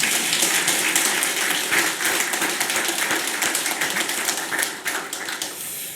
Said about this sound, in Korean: 잘 잡았으니 박수 한번 치시죠